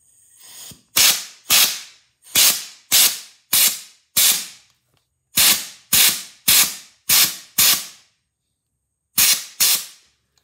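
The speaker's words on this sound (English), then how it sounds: "This is a handheld sandblaster. We've got the sandblaster filled up with regular old cooking baking soda." A handheld sandblaster loaded with baking soda cleans jets in sharp, loud bursts of air, about a dozen hissing blasts in an irregular rhythm with short silent gaps between them.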